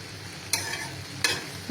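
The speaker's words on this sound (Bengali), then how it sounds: "আমি নিচ থেকে নেড়ে দিচ্ছি বারবার করে, না হলে পোড়া লেগে যেতে পারে।" A spoon scrapes and stirs pumpkin vegetable curry from the bottom of a pan in two or three distinct strokes over a low simmering sizzle, close up.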